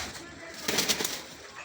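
A breeder's pigeons in Bhara Kahu, Islamabad, Pakistan, give a brief soft coo and a few rounded calls in the middle of a short, close recording.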